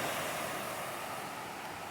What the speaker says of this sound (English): Little Pigeon River is flowing pretty heavy today.